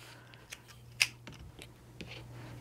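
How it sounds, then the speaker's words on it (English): Scissors cutting around fabric curves for a knot bag, a few faint snips and clicks spread over a quiet background with a low steady hum. "I'm just gonna cut around."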